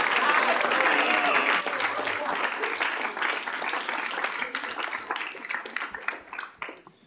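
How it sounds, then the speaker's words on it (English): A Student Senate assembly applauds its parliamentarian William Moore with a full burst of clapping that gradually thins into scattered, separate claps near the end. "So if we could give William a round of applause."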